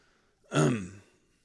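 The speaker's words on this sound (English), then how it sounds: "So that's why I cough." A man clears his throat once with a brief, harsh, rasping cough, close to the microphone, alone in a quiet room.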